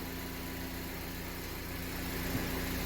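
A Jeep engine runs steadily at a low idle, a close, even hum with faint roughness and a slight swell near the end, with no talk.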